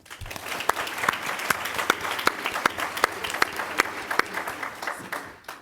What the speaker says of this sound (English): another round of applause for Rose and this distinguished